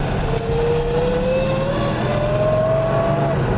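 A 1970 Chevrolet Corvette with the M22 Rock Crusher 4-speed manual transmission lets out a loud, steady rising gear whine over the engine drone, close and continuous.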